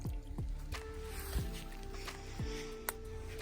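Water squeezed through a Vecto portable filter at a wild camp on Dartmoor, with soft squishing pulses and drips recurring about every second against steady outdoor background noise, close by.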